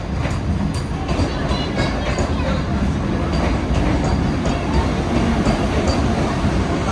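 A passenger train travelling towards Mumbai rumbles steadily from inside the carriage, a loud continuous roar with faint rhythmic clatter and a murmur of background voices.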